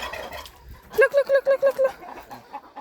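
Poultry near a water bucket make a close, loud run of about seven rapid, evenly spaced clucks, with softer calls around them and a pair of fainter clucks after.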